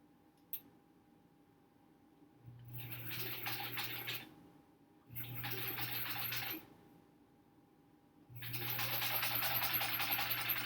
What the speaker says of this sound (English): now I'm going to sew on this gauzy fabric, so hopefully that doesn't cause me any trouble.